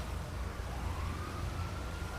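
A police car siren in the video game GTA 5 wails faintly in the distance, a thin rising tone buried under steady low engine and road rumble.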